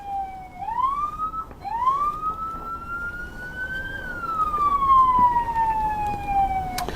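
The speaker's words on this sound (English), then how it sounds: "The officer will continue to follow the vehicle, intermittently turning the siren on," A Fargo police car siren wails during a nighttime pursuit, switched on intermittently: two short rising whoops, then a long steady tone that climbs and slowly falls, loud and close over road noise.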